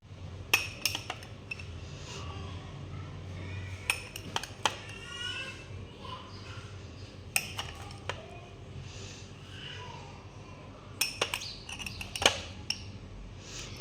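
A spoon clinks against a glass while mixing fruit with vanilla ice cream, a scattering of sharp, quiet taps in irregular bursts over a low background, no talk.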